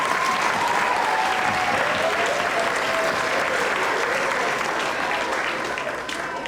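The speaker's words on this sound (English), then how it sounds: "Let's give them one final round of applause." Loud, sustained applause fills a school auditorium for retiring staff on Founders Day, a thick continuous roar of clapping from a large audience with a faint voice carried beneath, tapering slightly at the end.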